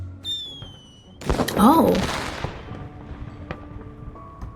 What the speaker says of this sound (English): This is my first time watching fireworks from this angle.